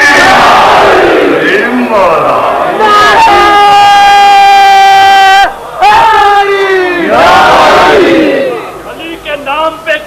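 A large crowd at a religious gathering roars a slogan in unison, loud and near, with long sustained chanted shouts rising and falling in several waves over a steady din of many voices.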